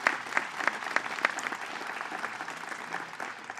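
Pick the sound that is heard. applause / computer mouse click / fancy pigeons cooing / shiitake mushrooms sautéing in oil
applause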